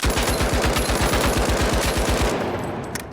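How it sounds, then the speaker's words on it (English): Lewis gun firing a sustained rapid burst in the video game THE FINALS, loud and close with an even, fast rhythm of shots that fades slightly at the end. "Now Lewis gun is my baby."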